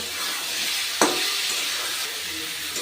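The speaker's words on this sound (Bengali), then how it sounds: "এবার আমি আলু আর ফুলকপিগুলো এই মশলার সাথে দিয়ে আর একটু ভালো করে কষিয়ে নেব" Potato and cauliflower pieces sautéed with spice masala in a pan for a snakehead fish curry, giving a steady close sizzle with a sharp scrape or stir clatter near the start, no talking.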